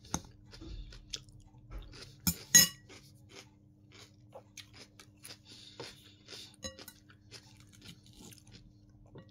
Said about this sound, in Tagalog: Very crunchy. Celery.